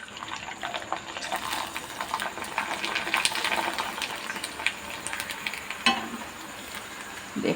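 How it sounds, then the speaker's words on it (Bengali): Sabu papad (sago papadum) sizzling and crackling as it fries in hot oil, a steady close frying hiss with small pops and stirring noises throughout, no talking. "এর সাথে সাথেই আমি ভেজে নেব এই যে পাঁপড়"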